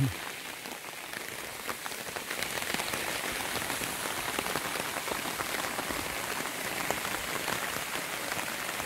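Steady rain falling over a mountain valley near a waterfall, a dense continuous hiss of drops on surfaces, loud and even throughout with no speech.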